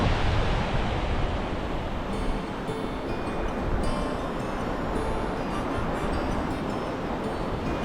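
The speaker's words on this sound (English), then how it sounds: "the tide's coming in, and the tide is eroding the coastline" Waves of an incoming tide wash onto a beach near St Andrews in Fife in a steady, loud, broadband roar of surf, continuous and close with no voices.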